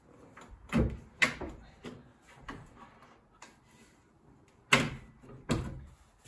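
The folding legs of a heavy-duty workbench are pulled up and set into place, making a string of sharp wooden clacks and knocks, a few louder thuds spaced irregularly between quieter taps.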